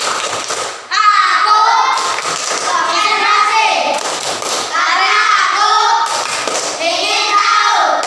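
A group claps in a concentration clapping game (tepuk konsentrasi), with loud patterned clap bursts mixed with chanting children's voices in repeating phrases.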